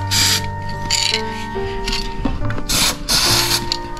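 An aerosol rust-protection spray can sprays onto a Vespa GTS scooter in several loud hissing bursts, separated by brief pauses, over a steady mechanical hum with tonal whine.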